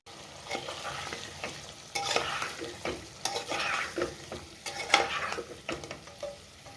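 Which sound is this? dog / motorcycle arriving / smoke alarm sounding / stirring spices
stirring spices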